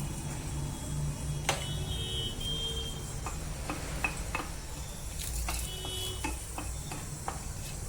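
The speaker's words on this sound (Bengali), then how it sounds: "দিয়ে দিলাম কড়াইতে তেল গরম করে তেজপাতা শুকনো লঙ্কা," Bay leaf and dried red chillies crackle softly in hot oil in a kadai, a low, steady sizzle broken by faint clicks and taps, with no one speaking.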